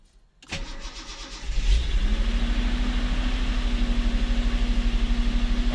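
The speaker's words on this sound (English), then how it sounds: "And now everything fires up." A Datsun 280Z engine fitted with a new fuel pump and ignition parts cranks briefly, catches and fires up, then settles into a steady, loping idle with a rhythmic pulse, close and fairly loud.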